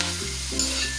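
Chopped garlic fries in rendered fat in a pan for a sweet and spicy spaghetti sauce, giving a steady close sizzle that fills the short moment without any voices.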